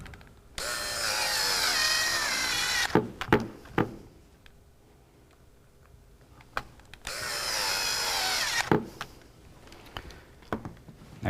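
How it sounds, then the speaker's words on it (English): A power driver running screws into the valve of a Tippmann 98 paintball marker, two sustained whirring runs a few seconds long, close, with sharp clicks and handling knocks in between. "And we got to put in the valve screws."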